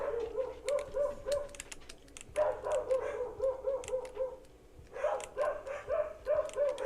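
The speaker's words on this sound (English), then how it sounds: "You can definitely hear the dogs." Several dogs bark in short bursts, a cluster of yaps, a pause, then more rounds, heard at a distance and fairly faint with some clicking in between.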